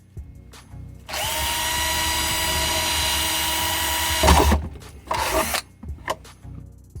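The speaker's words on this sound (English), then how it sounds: "Then we'll drill a hole for the fuse." A power drill bores a hole into the plastic housing of a vacuum cleaner, a loud continuous whine lasting about three seconds, followed by a few short bursts and clattering handling noises.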